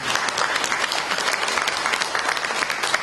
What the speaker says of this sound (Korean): 제가 받는 박수 가운데서는 가장 박수 소리가 작은 박수 소리 같아서요